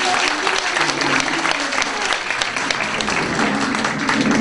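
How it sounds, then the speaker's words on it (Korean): Sustained, dense applause from a crowd at a Korean political campaign rally, steady and loud throughout with voices mixed in beneath the clapping. "다시 한번 뜨거운 박수."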